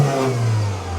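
An old Mercedes car engine revs briefly, a loud, close, steady mid-pitched roar with a strong low hum underneath, heard alone without voices.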